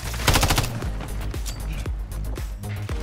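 Rapid automatic gunfire rattles in close, loud bursts in Call of Duty: Modern Warfare 3 (2023), with shots cracking repeatedly over a dense rumbling battle backdrop.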